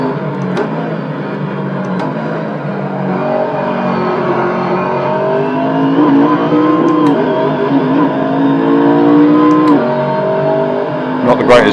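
Simulated race car engine in Assetto Corsa, droning steadily and rising and falling in pitch as the car drives, with a few faint clicks and a sharper blip near the end.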